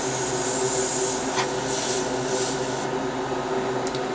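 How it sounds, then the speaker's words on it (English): An airbrush hisses out a steady test spray of thinned model paint, a close and continuous airy rush with brief bursts as the trigger shifts, and no voices over it. "it's time to do a quick little test spray to make sure that the paint to thinner ratio is correct and that the airbrush is working correctly."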